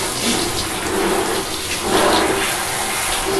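Tap water runs steadily while a pug is being rinsed during a bath, a continuous broadband splashing flow that fills the scene at close range with slight surges, no speech over it.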